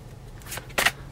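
Tarot cards being shuffled by hand, two brief papery riffling bursts, the second louder, close and alone against a quiet room.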